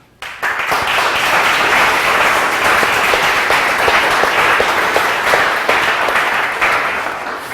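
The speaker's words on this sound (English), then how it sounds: "I think we should applaud them for this" A workshop audience applauds its organizers, a dense, loud, sustained burst of clapping that starts abruptly and fades slightly toward the end.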